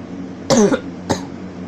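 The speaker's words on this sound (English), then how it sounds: "I'm sorry about the coughing" A man recovering from an illness coughs twice, a rough multi-burst cough followed by a shorter single one, close to the microphone over a quiet room hum.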